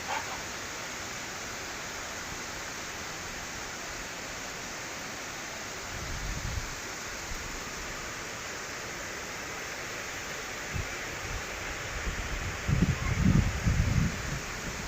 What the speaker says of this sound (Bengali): আকাশ জুড়ে বৃষ্টি আর প্রচুর সবই একতালে পড়ছে বৃষ্টিগুলো